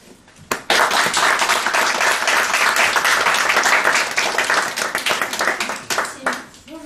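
Audience applause at a raclette-themed stage show: dense, warm clapping swells in loudly, holds steady, then thins out and fades, with a brief voice at the end.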